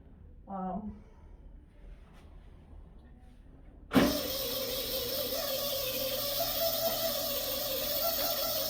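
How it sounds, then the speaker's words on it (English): An electric bed's adjustment motor switches on abruptly and keeps whirring steadily, close by, after a brief quieter stretch with a faint voice. "Sounds like you need a new bed in here, Shirley."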